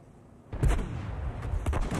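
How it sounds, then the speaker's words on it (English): A single artillery shot in the tank battle game World of Tanks, a sharp boom followed by a rumbling tail, with a fainter second report about a second later. "And their artillery Germ takes him out."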